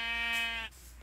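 A single sheep in the video game Minecraft gives one short, clear, nasal bleat lasting under a second, then falls quiet.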